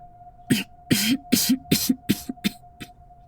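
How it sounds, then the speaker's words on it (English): A video game character in The Seance of Blake Manor gives about seven short, forced coughs in quick succession, each a sharp burst with a voiced tail, sounding staged rather than natural. "worst fake cough I've seen in quite a while"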